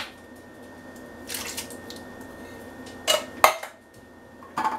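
Canned diced tomatoes tipped into a cooking pot for chili: a few short wet plops and metallic clanks of the can against the pot rim, spaced out over quiet kitchen background.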